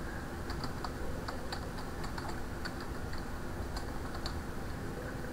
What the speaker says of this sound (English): So I'm going to type net user John / full name colon, and without a space type in the full name